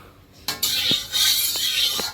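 A large metal kadai is set down on a stove with a sharp clank, followed by a few lighter metallic knocks and scrapes at close range; no talking.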